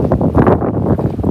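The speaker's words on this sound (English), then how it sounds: "yeah, it's cold and windy here." Cold wind gusts outdoors, buffeting the microphone with a loud, continuous low rumble and roar throughout.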